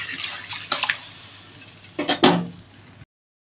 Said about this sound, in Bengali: এবার আমি এর মধ্যে জল দিয়ে দেবো পরিমাণ মতন